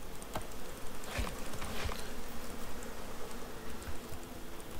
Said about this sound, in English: Yep, there's the bees, so they've come out the tree there.